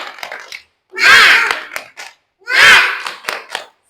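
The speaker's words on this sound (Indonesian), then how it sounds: "Tepuk semangat." Children chant and clap in unison in a rhythmic classroom spirit clap: two loud, swelling group shouts separated by short bursts of quick claps and pauses.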